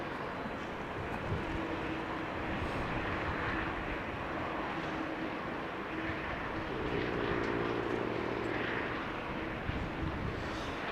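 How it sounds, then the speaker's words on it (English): Airliners on the glide slope into Amsterdam Schiphol Airport on a cloudy day: a continuous broad jet-engine roar, distant yet steady, holding throughout with no talk. "Glide slope consisting of a couple of airplanes."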